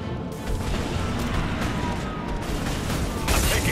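Continuous gunfire in a Mass Effect 2 battle, dense and loud with overlapping shots and blasts, growing heavier toward the end, with a voice speaking faintly underneath.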